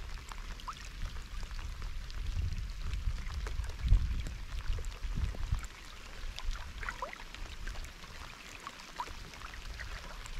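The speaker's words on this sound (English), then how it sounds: "Really raining" Steady rain hisses in a broad wash outdoors while fishing, with scattered drops pattering nearby, a low rumbling undertone swelling midway, no voices.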